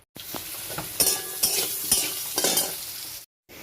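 Onions fry in the oil left over from frying potatoes in a pan, giving a steady, crackling sizzle with stirring scrapes and brief louder bursts, close and without speech, ending in a short cut to silence.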